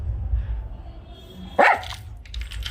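Pet dog barking once, a single sharp, fairly close bark midway through, with quiet outdoor background before and after.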